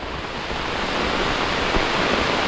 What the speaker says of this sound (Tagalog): Malakas ang ulan, pero hindi naman malakas ang hangin.